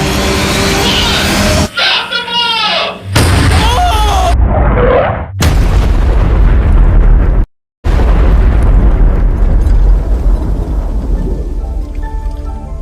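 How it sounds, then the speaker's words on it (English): A fuel bomb rigged as a cartoon-style trap goes off with a very loud, broadband blast. A long roaring, crackling rumble follows, broken by abrupt cuts and a brief silent gap. "Using our last bit of spare fuel, the pyrotechnics quickly re-rigged the bomb"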